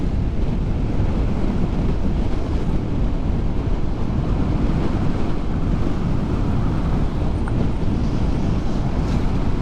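Sea waves wash onto the shore in a steady, loud roar of surf, mixed with wind buffeting the microphone, continuous throughout with no speech.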